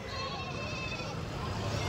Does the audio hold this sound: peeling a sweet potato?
no